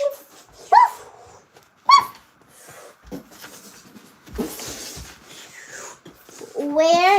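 A child's or adult's voice imitates a dog barking with several separate woofs spread across the clip, close and clear, mixed with short bits of other speech.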